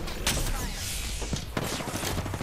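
Gunfire in the battle-royale shooter Apex Legends crackles in close bursts, a few sharp shots and rapid volleys over a busy game mix.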